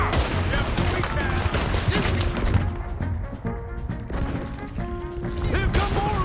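Red Dead Redemption 2 gunfight: repeated close, loud gunshots crack in a rapid, irregular volley, mixed with game music and shouted character voices.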